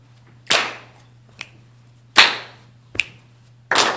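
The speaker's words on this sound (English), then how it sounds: "Now, if you want to, add a clap." Hand claps in a summer solstice song circle ring out as sharp, close, reverberant cracks, three strong ones spaced irregularly with two lighter taps between them, over a steady low hum.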